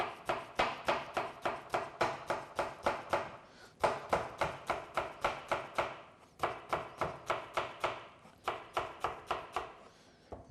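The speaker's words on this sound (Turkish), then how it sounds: "Ne kadar ince doğrarsak o kadar iyi olacak." Rapid, even knife chops on a cutting board while ingredients for Adana kebab, baba ghanoush and spicy ezme are finely minced, coming in steady bursts of quick close strikes with brief pauses between runs.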